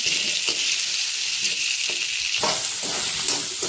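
Boiled taro root pieces fry in hot oil, giving a steady, close, dense sizzle with occasional soft stirring clicks and scrapes throughout, no voices.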